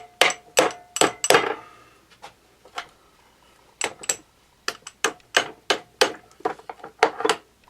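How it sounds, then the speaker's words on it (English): Sharp, irregular strikes of a rawhide hammer against the loose kickstart on a Honda CT70H engine, a quick cluster of knocks at first, then a pause, then a steady run of close, crisp impacts. "All with a rawhide hammer"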